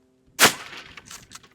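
One sharp, loud report from a Remington 870 shotgun loaded with Winchester slugs cracks out of near silence, then decays through scattered outdoor echoes with no talking.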